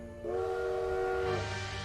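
A train horn in the video game Bloodstained: Ritual of the Night, a sustained chord-like blast of about a second over a rumbling rail-car background, fairly loud.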